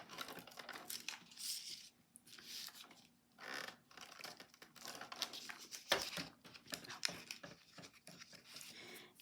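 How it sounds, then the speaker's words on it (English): Tape is pressed onto two folded-in tabs of a scored paper card, producing faint close crinkling, peeling and rubbing sounds in uneven bursts with brief pauses, quiet throughout. "now we can put tape on those 2 tabs that are folded in"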